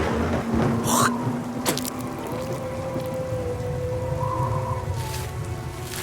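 Dark, steady rain and weathery ambience runs through the opening of an album, a constant wash of falling drops with a few brief sharper accents and low tonal sounds layered on top.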